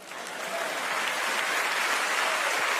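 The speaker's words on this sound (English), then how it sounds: "Don't get shy, clap your hands, come on." An audience claps hands steadily, the dense applause swelling slightly at the start and then holding loud and even throughout.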